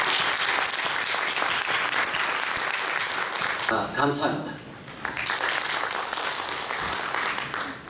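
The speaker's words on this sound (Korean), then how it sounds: "우리 박수로 한번" Audience applause at an academic conference on Christian scholarship, a dense, even clapping from a seated crowd lasting several seconds, with a brief spoken thanks in the middle as the clapping dips and then resumes.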